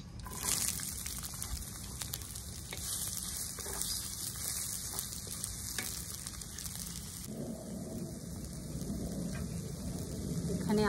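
Onions dropped into hot oil with whole spices for a jackfruit curry: a steady crackling sizzle that swells as they go in, close and fairly soft, with a brief voice at times.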